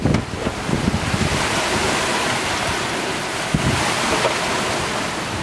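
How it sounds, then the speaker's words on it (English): Large ocean waves churn and break around a sailboat at sea in gusty wind of about 24 knots, a loud continuous wash with roaring wind noise and a couple of sharper surges, no voices. "These waves are like, just kind of everywhere."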